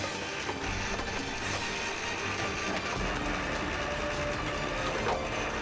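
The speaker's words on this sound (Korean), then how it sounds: "단지가 올라올 때마다 나는 굉음." A line-hauler winch on an octopus fishing boat, hauling pots on a long rope, roars and clatters continuously, with a dense, grinding rumble and occasional knocks, loud and steady throughout.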